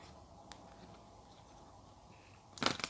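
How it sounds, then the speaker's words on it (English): Tarot cards shuffled by hand during a card reading: a near-quiet room, then a short, close, crisp riffling burst near the end. "So I'm just going to give the cards a shuffle"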